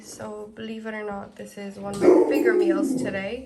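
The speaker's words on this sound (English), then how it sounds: "That's my dog." A pet dog barks and yips in short bursts close by, growing louder toward the end, while someone talks over it in a home kitchen.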